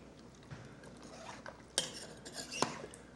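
Food being stirred in a pot, soft scraping with a couple of sharper clinks of utensil against metal, faint and close, with no talk.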